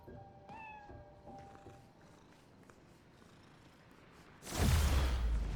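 A cat meowing in Marvel's Spider-Man Miles Morales video game, several short close meows with a purring undertone, followed by a loud whoosh near the end.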